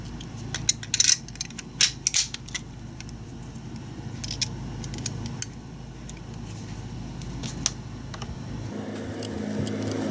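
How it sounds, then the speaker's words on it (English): Metal parts of an SW22 Victory pistol being reinstalled, bolt and barrel going back in: a few sharp clicks and clacks early on, then quieter scraping and handling noises close by, with no talking. "The last thing we do is reinstall the bolt and barrel."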